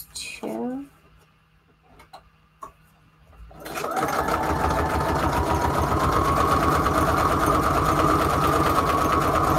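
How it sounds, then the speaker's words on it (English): Sewing machine stitching layered junk journal embellishments, starting after a few quiet seconds with some faint handling noises, then running fast and steady with a rapid, even mechanical patter close by. "Just doing a bunch of sewing."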